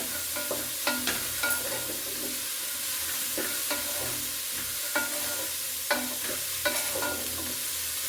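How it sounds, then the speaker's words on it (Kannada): Carrots sizzle steadily in hot oil tempering while a spoon or spatula scrapes and stirs the pan in intermittent clinks and knocks. "ಒಗ್ಗರಣೆಯಲ್ಲಿ ಚೆನ್ನಾಗಿ ಸ್ವಲ್ಪ ಹೊತ್ತು ಮುಟ್ಕೊಳ್ಳೋಣ ಈ ಥರ"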